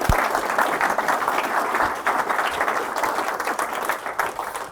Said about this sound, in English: do you mind just giving them a bit of a round of applause